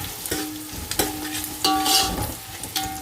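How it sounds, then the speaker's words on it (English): Onions and tomatoes fry in a pan for home-style chicken biryani, sizzling close by while a spoon scrapes and stirs in several distinct strokes. "Now we will fry the onions and tomatoes till they all smash well."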